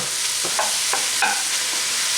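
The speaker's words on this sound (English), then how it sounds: "I'm just going to saute this." Chopped onion and red pepper sautéing in a pan, a close, steady sizzle punctuated by several light scraping stirs, with nobody talking.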